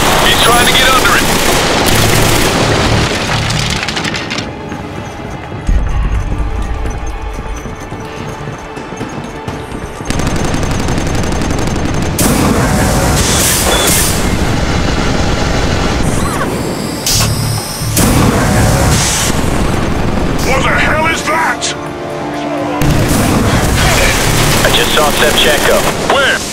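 Anti-aircraft gun in Killzone 3 fires long, loud, continuous bursts, joined by explosions and heavy combat noise, with brief lulls and voices talking over the barrage.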